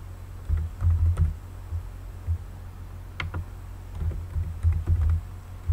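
A login ID and password are typed on a computer keyboard in short clustered bursts of close, crisp key clicks, with pauses between runs over a steady low hum.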